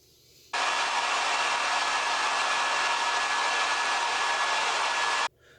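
A vacuum cleaner's steady loud motor whoosh switches on abruptly, runs evenly for about five seconds, then cuts off.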